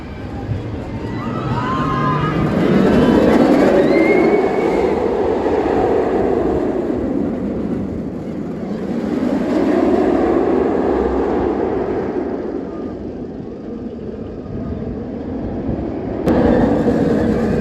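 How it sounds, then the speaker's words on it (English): A Katun B&M inverted roller coaster at Mirabilandia thunders along its track in a long, loud, rumbling roar that swells and fades in waves as the train sweeps through its course, with faint higher squeals riding on top. "Now it's time for the other big coaster here, Katun, which is one of the biggest B&M inverts in the world."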